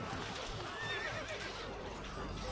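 A horse neighs in the strategy game Stronghold: Crusader, a short shrill whinny over busy game ambience with a faint clip-clop of hooves.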